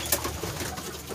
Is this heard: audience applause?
no